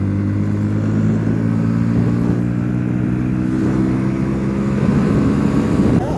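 Motorcycles on a group Independence Day ride produce a loud, steady engine drone up close, with a low rumble that rises slightly as they revv and hold speed.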